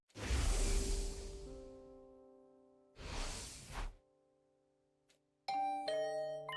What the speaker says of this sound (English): Is that my doorbell?